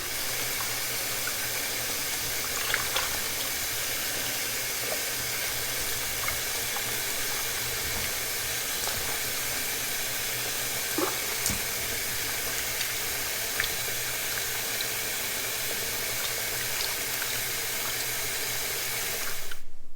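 Tap water runs steadily into a kitchen sink while muddy beetroot is washed, a close, continuous gushing hiss with a few small clinks and splashes before it cuts off at the end.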